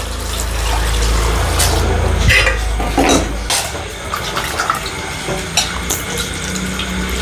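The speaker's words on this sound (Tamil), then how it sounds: "இதை நம்ம ஃபஸ்ட்டு தண்ணியில் போட்டு நல்லா அலசிக்கலாம்" Running water splashes steadily as mint leaves are swished and rinsed in it, with a low rushing flow at first that gives way to lighter sloshing.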